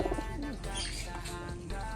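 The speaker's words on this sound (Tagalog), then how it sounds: "Yung mga bagong kalapate." Young pigeons coo softly in low, rolling calls, close by, over a busy background of chirps and rustling.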